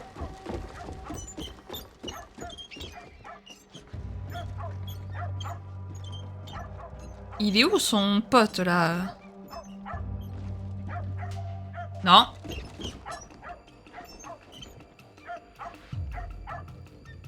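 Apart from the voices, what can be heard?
dog barking and whimpering in Assassin's Creed Shadows video game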